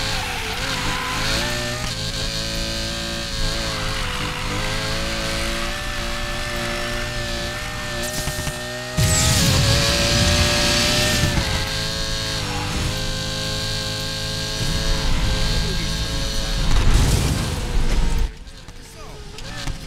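Car engines rev and whine in the Need for Speed Payback racing game, a continuous droning tone that climbs and shifts pitch as it accelerates, with someone talking over it.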